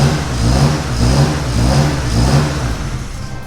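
A BMW E30 fitted with an N54 engine and a newly finished exhaust runs with a throaty mid-to-low engine note that swells and eases in short pulses, heard fairly close with no talk over it.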